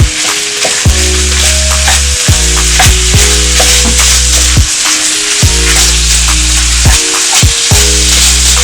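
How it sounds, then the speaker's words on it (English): Minced beef for meat pie frying in a hot pan, loud steady sizzle with repeated scraping stirs; strong low tonal bands sit underneath throughout. "Then I'll be adding the beef, the minced beef to it. And I'll be breaking it down."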